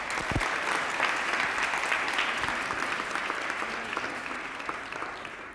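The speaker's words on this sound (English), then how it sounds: "Let's give them both another round of applause." A crowd at a community hearing on a reparations ordinance claps steadily and densely for several seconds, a sustained wash of applause with no voices standing out.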